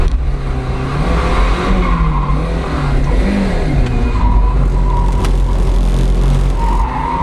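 Budget Mk1 Mazda MX-5 drifting on a part-wet track, with a loud, steady engine drone rising and falling as the car revs, and tyre squeal throughout.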